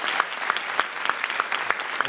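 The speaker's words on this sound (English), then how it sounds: "All right, a round of applause for our panel." Brief applause from the audience at a STEM educational panel, a crowd clapping for the panelists in a quick, steady patter with a few sharper individual claps standing out over about two seconds.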